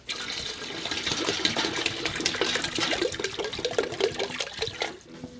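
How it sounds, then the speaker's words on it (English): Distilled water poured into a home-brewing pot for wort, a continuous splashing, gurgling stream with bubbly bursts, close and moderately loud, running alone for several seconds before tapering off. "Next, we got to add the water to the pot and start our wort"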